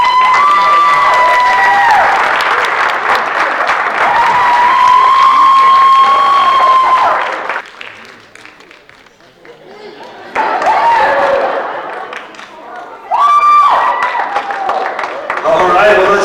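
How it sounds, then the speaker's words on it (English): Audience applause and cheering at an awards show, a loud sustained crowd roar with clapping and shouts. It dips briefly to quiet murmur, then surges again, and a voice speaks over it at times. "let's keep that applause going"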